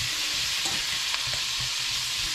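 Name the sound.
Hawaiian-style baby back ribs sizzling as they are stirred in the pan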